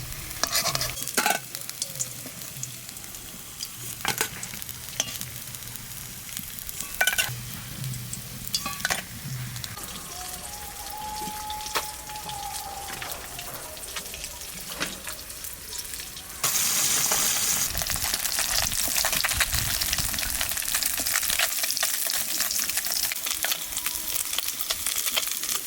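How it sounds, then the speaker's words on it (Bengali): Fish frying crisp in a pan for a ridge gourd fish curry: a steady sizzle runs throughout, with scattered clinks and stirring knocks, and it turns louder and hissier for the last third. "মাছটা একটু কড়া ভাজা দিলাম"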